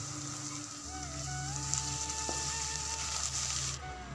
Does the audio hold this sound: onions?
yes